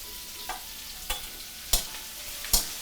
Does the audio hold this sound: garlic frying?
yes